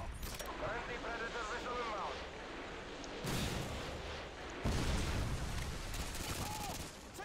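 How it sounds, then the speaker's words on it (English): Grenade blasts and gunfire in the video game Call of Duty: Modern Warfare 2, loud and continuous with heavy booming bursts, under excited talk from a player. "Grenade."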